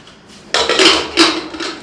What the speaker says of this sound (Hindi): तो ये हमने ढक्कन बंद कर दिया